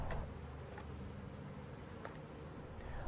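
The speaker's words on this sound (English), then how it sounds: "The bees are flying." Bees flying on a hot December day near beehives, a steady low buzzing drone that continues throughout at moderate level.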